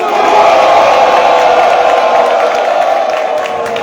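Loud, sustained cheering and shouting from a crowd at a teachers' union general assembly, voices and whoops blending into a dense roar with some clapping underneath.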